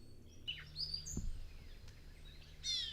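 Bird calls from a catbird in the outdoors around a small town: a few brief, thin chirps and a mewing call scattered over quiet background hiss, with a brighter burst of calling near the end.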